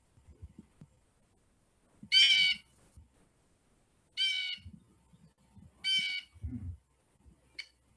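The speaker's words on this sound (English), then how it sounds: "blue jay is, you're going to hear them and they like to just yell their head off" Three loud, harsh blue jay calls spaced a couple of seconds apart, each a short raspy scream, with a brief fainter call at the end over low rustling.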